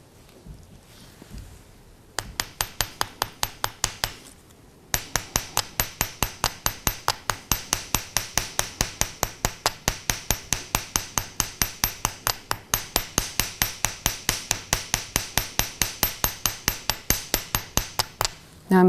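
An embossing hammer taps a copper washer's outer edge in a fast, even run of sharp metallic strikes, a short burst first, then a pause and a long steady series, close and alone.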